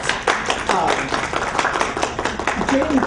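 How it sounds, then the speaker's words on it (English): Applause from a panel audience, with scattered clapping mixed with murmuring voices throughout, moderately loud and fairly even. "maybe we should give a round of quick applause"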